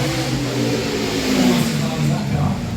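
A French Prato Orage supercar with a naturally aspirated V12 and massive side exhausts revs loudly and steadily at the Goodwood Festival, its deep engine roar continuous throughout, with a faint murmur of voices in the background.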